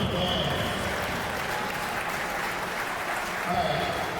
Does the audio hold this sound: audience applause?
yes